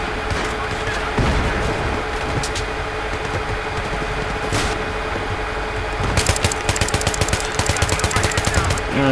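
Battlefield 3 multiplayer gunfire: rapid automatic bursts crackle over a steady background rumble, growing denser and louder in the last few seconds.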